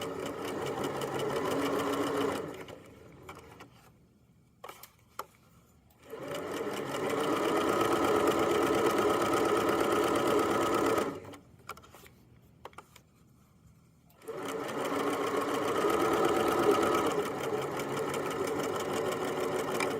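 A sewing machine stitches the pocket of a Chromebook case in three loud, fast, rhythmic runs of whirring needle strokes, close by, broken by quiet pauses with small clicks between them.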